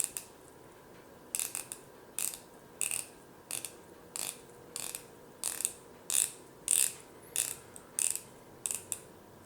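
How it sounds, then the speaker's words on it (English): An RZE Endeavor watch bezel turns through a long series of crisp, evenly spaced ratchet clicks, sharp and close, in short bursts with brief pauses between them and no voices. "this is one of the best bezel actions I've ever felt. It is very positive. There's no back play whatsoever, and you can hear those positive clicks."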